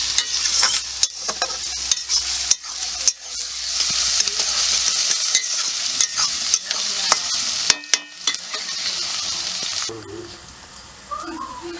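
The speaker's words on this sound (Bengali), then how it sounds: "মাংস চাপিয়ে দিয়েছি, পরিমাণ মতো তেল দিয়ে দিয়েছি, আর কালার হওয়ার জন্য একটু চিনি দিয়ে দিলাম, দিয়ে পেঁয়াজ দিয়ে আবার একটু কষছি।" Meat and onions frying in oil with a little sugar, stirred steadily in a pan: a constant close sizzle broken by repeated spatula scrapes and clatters over about twelve seconds.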